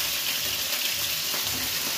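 Chicken frying in hot oil, a steady hissing sizzle with crackling spatter throughout, close and alone with no voices.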